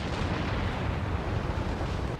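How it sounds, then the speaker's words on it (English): German artillery firing in World War I, heard as a dense, continuous rumble of distant heavy guns and shell blasts that merge into one unbroken roar. "German artillery began firing."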